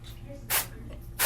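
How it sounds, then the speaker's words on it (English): Salon Graphic High Beams Intense hair spray in black gives two short, close hissing bursts about a second apart, aimed at a wig's hair part. "I'm going to go in with the Salon Graphic High Beams Intense spray"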